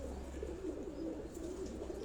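A breeder pigeon coos continuously in soft, low warbling rolls, close and steady, with no other sounds breaking through.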